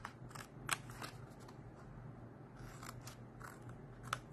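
Scissors snip through paper, cutting two squares from a stamped party-project piece, a few sharp close crunching cuts spread over a quiet room.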